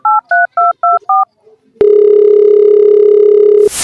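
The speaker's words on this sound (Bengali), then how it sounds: "একটু চেয়ারম্যানের একটু ফোন দি।" A phone keypad beeps out five quick dialing tones in an even rhythm, then after a short pause a loud, steady ringback tone holds for about two seconds before cutting off.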